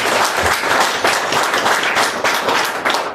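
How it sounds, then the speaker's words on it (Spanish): Church congregation applauding strongly during a worship service, dense steady clapping from a crowd that fills the whole stretch without pause. "Démonos un fuerte aplauso a Jesucristo que está aquí."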